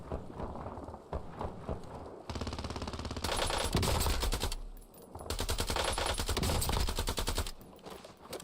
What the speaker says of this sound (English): It's just super hard when you have 4 guns shooting at you.